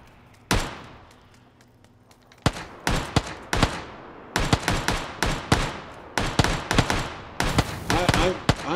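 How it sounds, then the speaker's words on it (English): Gunfire in a snowy first-person shooter game, sharp loud shots arriving singly and then in quick clustered bursts, with players talking over the shooting. "He's shooting."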